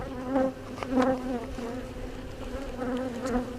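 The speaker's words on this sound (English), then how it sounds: "Got plenty of bees for sure." Honey bees buzz busily around an open hive during a spring inspection, when the queen is marked, a continuous close hum with louder passes as individual bees fly near, and no one speaks.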